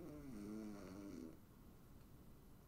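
A voice imitates the snore of a sleeping bear puppet, one drawn-out, soft snoring breath that fades into near silence before a brief sharp noise at the end.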